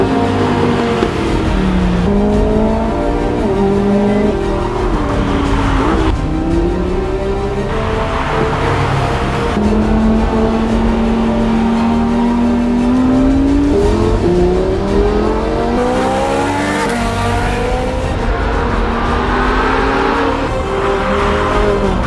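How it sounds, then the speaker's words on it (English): A Ferrari 458 drives hard on a mountain road in Dubai, its loud engine revving up and down through long sweeping bends while the car slides, with a faint tire squeal in places. "I couldn't help myself and I got a few slides in the Ferrari"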